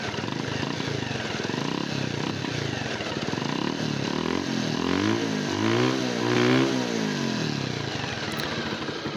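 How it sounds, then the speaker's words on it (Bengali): Bajaj Pulsar motorcycle, an older all-black model in fresh condition, idling steadily up close, then revved in a few rising and falling pulses before settling back to a smooth idle. "ইঞ্জিন সাউন্ড বেশ স্মুথ মনে হচ্ছে আমার কাছে।"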